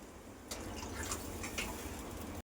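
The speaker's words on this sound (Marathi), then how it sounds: "मॅगीला 1 ग्लास पाणी टाकूया." Steady stream of water poured into a pot, a continuous splashing rush that runs for about two seconds and then stops abruptly.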